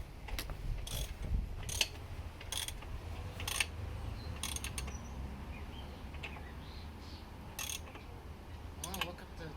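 A motorcycle rear wheel and drive chain being turned slowly by hand, giving repeated soft ratcheting clicks at an uneven rhythm over a low background hum, close by and fairly quiet.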